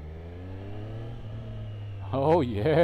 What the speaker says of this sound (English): I'm riding my bike in the sport mode